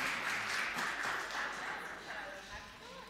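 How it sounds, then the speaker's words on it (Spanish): Applause ripples through the Argentine Senate chamber after a presentation by UBA researchers on electronic voting, a moderate wash of many hands clapping under voices talking nearby. "El aplauso es para los actores que simularon la elección"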